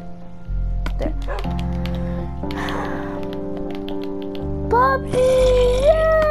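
Minecraft wolves yip and bark in short bursts over a steady game music drone, while someone talks excitedly across most of it.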